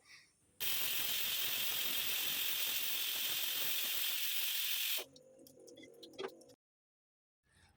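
A pressure cooker on a home stove vents steam while cooking sambar, a loud, steady hissing whistle that runs several seconds before cutting off abruptly, followed by faint kitchen clatter.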